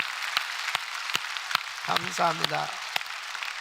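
A church congregation applauds steadily at a Sunday service in a large room while a voice speaks briefly over the clapping.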